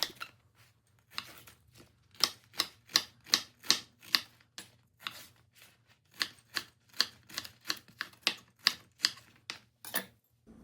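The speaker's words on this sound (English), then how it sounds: "so that's why I'm cutting into bigger chunks" A knife chops sponge gourd into big chunks for a coarse chutney, giving a steady run of sharp, close knocks on the board in two bursts of rapid, even strokes, with no talking.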